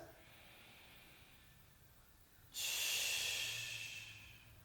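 Deep breathing held in a hip-opening yoga pose: a quiet stretch, then one long, strong, close exhale that rushes out and slowly fades.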